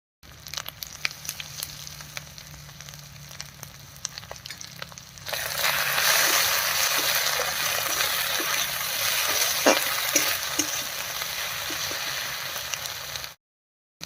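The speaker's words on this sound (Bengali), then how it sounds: "সব মশলাগুলো দিয়ে খুব ভালো করে মিশিয়ে নিয়েছি" Ground spices with turmeric and salt stirred and fried in a pan for an egg curry, a quieter scraping start swelling into a loud, continuous sizzle with spoon scrapes, close by and without talk.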